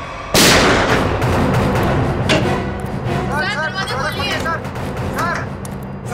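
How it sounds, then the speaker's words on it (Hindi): Two sharp, loud gunshots fired inside a locked room ring out a couple of seconds apart, followed by a sustained rumbling din with voices calling out over it. "अंदर से 2 गोलियां चली है और दरवाजा भी अंदर से लॉक है"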